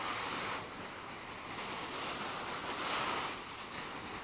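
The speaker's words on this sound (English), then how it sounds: "So here I am on the beach." Waves washing onto a lake beach, a steady soft rush of surf swelling and easing, mixed with some wind noise and no voices.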